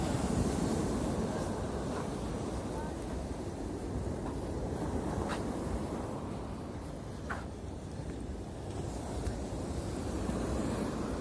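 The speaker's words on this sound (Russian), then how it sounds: "Размеренно так море шумит." Steady broadband rush of sea surf breaking continuously on a beach in Turkey, a dense, even wash with no voices, fairly close and constant throughout.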